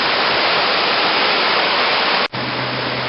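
Flooded Ridley Creek rushes in a loud, steady roar of churning water that fills the whole scene, broken only by a brief dropout near the end, after which a faint low hum sits under the flow.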